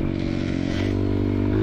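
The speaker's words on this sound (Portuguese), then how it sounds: "você não fala do barulho da minha moto?" A two-stroke motorcycle engine, a Honda Bros ridden on a tight trail, drones loud and close in a steady buzzing tone that climbs slightly in pitch as the throttle opens.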